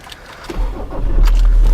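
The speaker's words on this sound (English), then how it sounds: "now that I have the keys, I can turn on the car" Mazda BT-50 GT dual-cab 4x4 ute with an automatic gearbox cranks and fires up, its engine settling into a steady, loud low rumble at close range.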